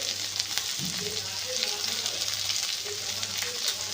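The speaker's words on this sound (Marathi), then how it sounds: "आता हे आपण परतून घेऊया" Chopped onion with turmeric sautés in a pan, giving a steady sizzle and frying hiss with occasional soft stirring sounds, close and continuous.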